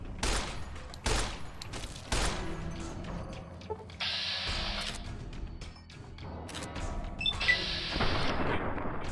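Gunfire from Fallout New Vegas, with loud sharp shots and bursts spread across the clip, some rapid clusters, and a broad noisy wash in between.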